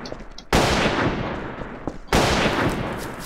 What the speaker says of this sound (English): People are just shooting just for the hell of it.